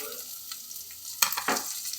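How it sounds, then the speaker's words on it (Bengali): Chopped vegetables sizzle in hot oil with ginger and garlic for chow mein, a soft steady frying hiss broken by a couple of sharp stirring scrapes near the end. "এবার এর মধ্যে কেটে রাখা সবজিগুলো দিয়ে দেব।"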